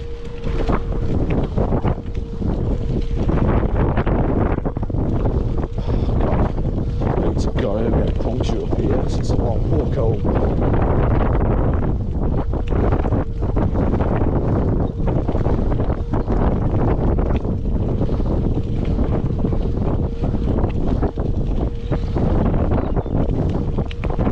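Strong wind buffets the microphone with constant rumbling roar, a faint steady hum running beneath the gusts.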